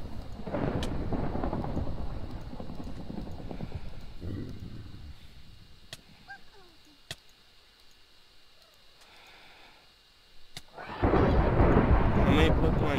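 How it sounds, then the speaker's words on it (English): Thunder rumbles and rain falls in the Minecraft Pixelmon video game, loud sustained rolls at the start and end with sharp crackling strikes in between and quieter patches of ambience. "That lightning's pretty loud."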